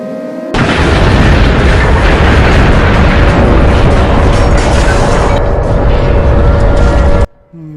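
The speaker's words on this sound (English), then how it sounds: "The power plant exploded." A power plant explodes in a loud, roaring blast that holds for several seconds as a dense, sustained rumble, then cuts off abruptly into quiet.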